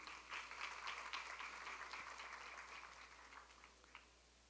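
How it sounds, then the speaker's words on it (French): A crowd applauds a CEO at a French-speaking gathering, steady, moderately distant clapping that holds for several seconds and then gradually thins out, with no talk over it. "ce PDG, M. Mackinson François, que je vous demande d'applaudir une deuxième fois."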